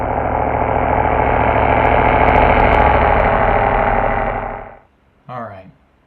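Rough, distorted idling of a homemade squatted truck engine in BeamNG.drive, a loud, steady drone close up that fades out after a few seconds, followed by a brief spoken voice.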